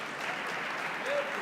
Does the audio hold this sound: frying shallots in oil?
no